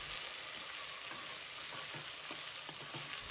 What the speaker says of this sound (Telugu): ఈ కందిపప్పును వేసుకొని వేయించాలి